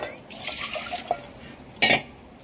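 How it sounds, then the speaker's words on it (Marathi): Water poured into a thick batter in a kitchen pot, with soft liquid sloshing and faint stirring scrapes under steady background noise, then a short, louder splashing burst near the end. "थोडं अजून जरा पाणी टाकू,"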